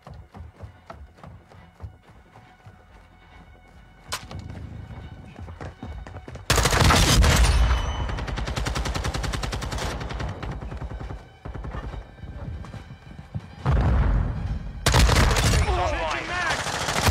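Video game gunfire bursts out in long, loud rapid volleys with sharp single shots between them, and faint game radio chatter is heard in the quieter stretches.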